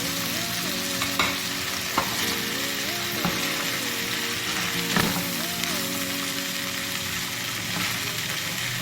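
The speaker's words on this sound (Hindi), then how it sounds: "इसको भी हम आलू को भी चनों के साथ भूनेंगे" Black chickpeas and boiled potato cubes roasting in a pan, a continuous close sizzle with occasional stirring scrapes and a faint background tone, no voices.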